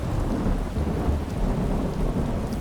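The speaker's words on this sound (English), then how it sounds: "but the rain was full force." A thunderstorm with heavy rain in the video game Skyrim: a dense, continuous roar of pouring rain over low rumbling thunder, loud and steady throughout, with no voices.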